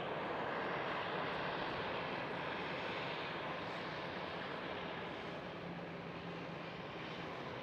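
An Airbus A380 takes off at Amsterdam Schiphol airport, producing a loud, continuous, broad jet-engine roar that holds steady for the whole stretch with no voices over it.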